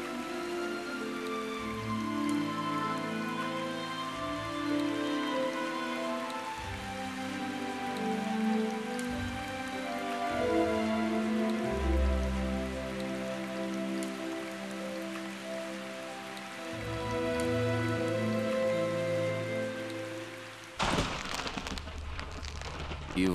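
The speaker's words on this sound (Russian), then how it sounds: "Через 3 дня пошел дождь, и наполнились водой колодцы" Steady rain falling on a surface, a continuous dense patter that lasts throughout beneath sustained musical tones, with no voices.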